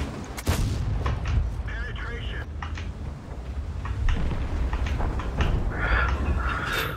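M44 artillery fires in a tank video game, heard as a sharp loud blast near the start followed by booming rumbles and scattered impacts, with a voice speaking over parts of it.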